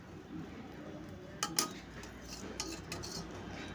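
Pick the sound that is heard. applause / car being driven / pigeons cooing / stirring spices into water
stirring spices into water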